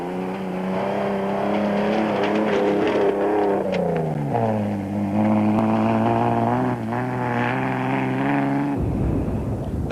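Castrol Toyota Hilux rally truck at the 1995 Settler 400 races past, engine roaring loud and close, pitch shifting through gear changes and revs, then cutting off abruptly near the end.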